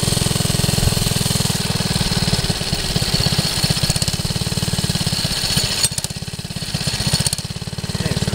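A loud engine with a centrifugal clutch runs steadily with a fast, throbbing chug, its rhythm shifting slightly partway through as the revs dip and recover.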